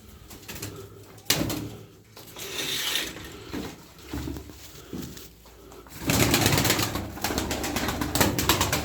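Tumbler pigeons coo in a flock during a group flying session, their soft calls mixed with fluttering and scattered handling noises, swelling louder toward the end.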